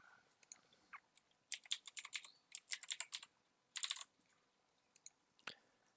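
A username and password being typed on a computer keyboard to sign in to an account: soft, quick key clicks in short bursts with small gaps, close and quiet, no voices.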